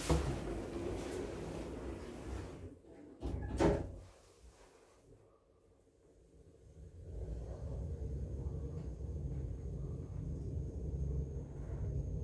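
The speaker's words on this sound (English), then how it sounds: "Doors closing." Kone lift doors at a Premier Inn hotel in Romford, London slide shut with a brief rumbling thud. A short lull follows, then a steady low hum as the lift moves.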